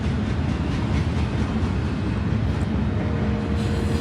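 A train rolls steadily through the Crossroads district of Kansas City, Missouri, a continuous low rumble with rail clatter heard from nearby, and no voices.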